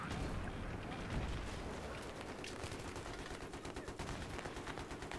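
Battlefield 3 multiplayer combat on Caspian Border: a dense wash of gunfire and rocket blasts, rapid automatic bursts rattling on, loud and continuous with distant booms layered underneath.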